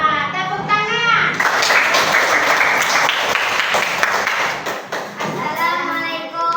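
A classroom audience applauds after a group presentation, a loud burst of clapping with children's voices chattering and calling over it, tapering off as talk resumes near the end.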